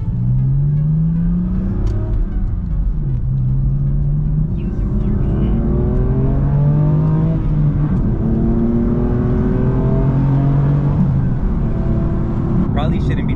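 A 2020 BMW M4 Competition F82 with a manual gearbox accelerates through the gears, its engine note climbing and dropping in repeated sweeps as it shifts, loud and steady for the whole stretch, heard from inside the car.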